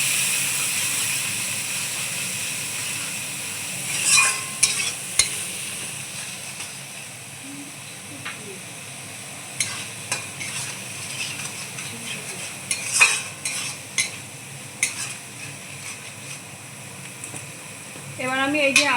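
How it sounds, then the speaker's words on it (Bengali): Spice masala with salt being stirred and fried in a pan for aloo dum, a soft steady hiss with scattered clinks of a utensil against the pan, a voice talking over it at times. "ভালো করে মশলাটাকে কষে নেব"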